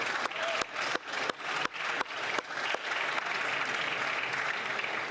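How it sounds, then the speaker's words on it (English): Applause in the House of Commons during Question Period, opening with several sharp separate claps and then swelling into a steady round of clapping from the chamber. "let us offer the Haitian community all our respect and applause"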